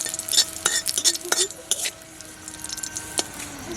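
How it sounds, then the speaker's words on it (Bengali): Dried chilies hit hot oil in a pan while cooking for a chalta pickle, giving sharp crackles and clinks of a stirring utensil against the pan, with a low sizzle underneath. "লঙ্কাগুলো তেলে দিয়ে দিলাম।"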